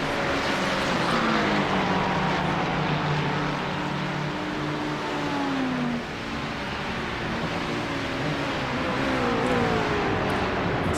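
GT3 race cars in the iRacing sim at Road America whine with engine notes rising and falling through gear changes, several cars close together running continuously, no talk.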